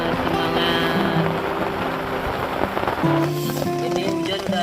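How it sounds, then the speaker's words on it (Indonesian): Rain falls steadily at a mountain campsite, a dense, continuous hiss from start to end. Voices and tonal sounds run beneath the downpour. "Ini hujan udah hampir 1 jam."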